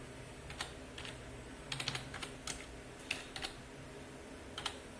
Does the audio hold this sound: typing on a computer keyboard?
yes